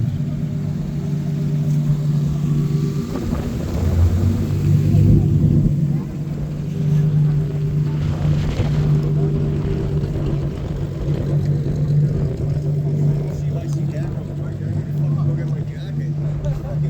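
Drift cars, including an LS-swapped BMW, run on a race track at night, giving a steady engine rumble and drone that swells and recedes at a distance and continues throughout.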